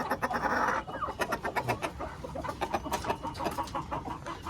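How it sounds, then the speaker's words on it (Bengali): A farm rooster clucks in quick, irregular bursts close by, with other fowl faintly around and no talk. "এই আমার লাজ্জা মোরগ"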